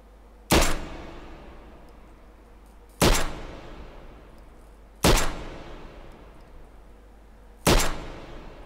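Four loud, sharp blaster shots from a Blade Runner-style pistol in the VR shooter Hot Dogs, Horseshoes & Hand Grenades, fired singly a couple of seconds apart, each cracking hard and ringing off in a short decaying tail.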